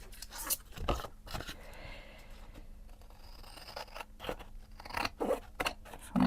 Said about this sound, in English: I think I'll use scissors actually, because I think it might rip if I use my knife